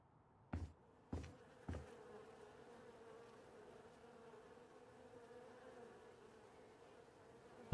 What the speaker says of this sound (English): I'm just trying to work out where those bees are coming from.